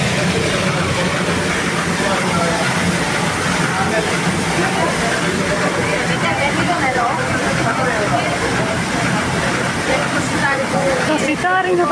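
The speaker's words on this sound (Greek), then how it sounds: "Έχουμε έρθει σε έναν νερόμυλο που δουλεύει με νερό." A water-powered mill grinding wheat into flour gives a dense, continuous rushing and churning roar of water and machinery, loud and steady throughout with no pauses.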